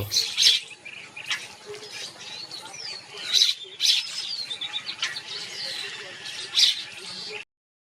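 Bird calling at Marjat baor, a wetland, in hot weather: repeated high chirps and short warbling phrases, fairly close and clear, some bursts louder than others, over a light hiss of ambient noise.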